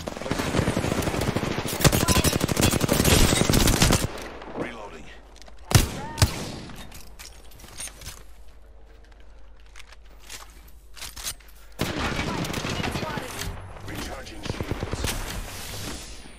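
Automatic gunfire in the battle royale game Apex Legends comes in dense rapid bursts at the start and again near the end, with sharp isolated shots and quieter gaps between them and a voice heard in places.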